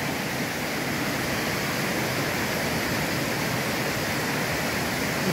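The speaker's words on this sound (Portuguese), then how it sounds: "São várias quedas d'água." Cascata da Solitária, a waterfall in Igrejinha, Rio Grande do Sul, Brazil, roars in a dense, continuous wash of falling water, steady and fairly close, with no voices.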